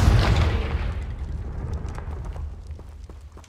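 A Confringo spell explosion in a video game bursts with a loud low boom at the start, then crackles and rumbles as it fades away over a few seconds, with no voices.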